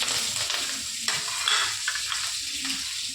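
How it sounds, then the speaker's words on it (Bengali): Chopped onion and green chilli fry in a little ghee with a close, steady sizzle, broken by the scrape and clink of a spatula stirring against the pan. "পেঁয়াজ আর লঙ্কা ভেজে নিব।"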